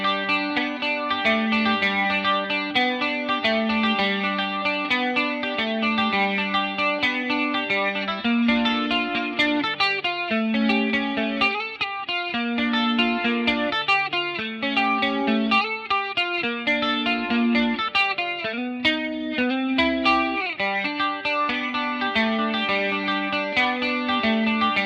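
Electric guitar through a Line 6 Helix chorus effect, playing a continuous chordal and melodic passage with shimmering, wavering modulation, loud and steady throughout without pauses.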